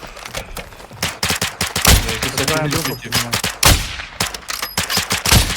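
Gunfire in the video game Call of Duty DMZ comes as bursts of sharp, loud shots and rapid automatic fire, with a brief voice in between and repeated heavy reports near the end.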